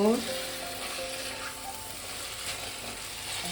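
Chicken sautéing in a pan for a sweet-sour-spicy curry, a constant broad frying hiss running evenly throughout, close and fairly loud, with a brief tonal squeak at the start and no clear talk.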